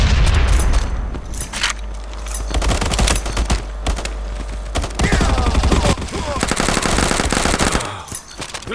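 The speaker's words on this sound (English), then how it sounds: "Grenade out!" Rapid automatic gunfire in the Modern Ops shooter game fills a dense, loud stretch with overlapping bursts, while a heavier boom from a grenade explosion lands in the mix and a faint voice is buried under the firing.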